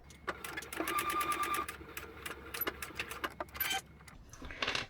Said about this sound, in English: So we've sewn down each side.